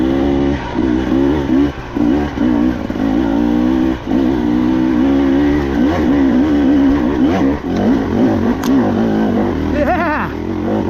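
A 2024 KTM 300XC-W two-stroke dirt bike with a TSP head and ECU tune climbs a hill in second gear, its engine loud and close, revving steadily with rising and falling pitch and some clatter throughout.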